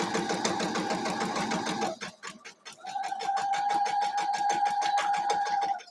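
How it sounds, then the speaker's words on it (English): A sewing machine stitches a quilt block, a steady rapid mechanical chatter that pauses briefly and then resumes at a slower, regular pace with a humming tone, close and alone. "And if I sew slower, it's quieter."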